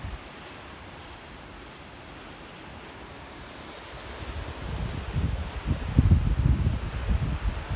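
Wind gusting at the coast, a broad steady rush that swells louder and rougher toward the end, with low buffeting rumble near the microphone and no voices.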